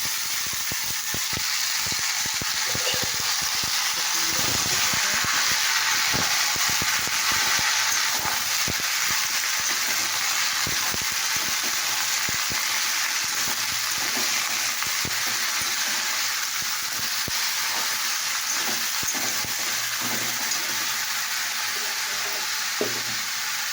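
Bottle gourd hits a pan of hot oil with cumin and bay leaf, giving a loud, continuous sizzle and hiss, broken by repeated scraping and clattering as the pieces are stirred.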